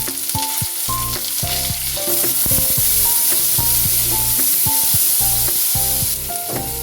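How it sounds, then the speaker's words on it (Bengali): Soaked raw chickpeas hit hot oil in a frying pan with turmeric and burst into a loud, close sizzle that holds steady, over a pulsing low hum and occasional clinks from stirring. "ভিজিয়ে রাখা কাঁচা ছোলাগুলো দিয়ে দিলাম"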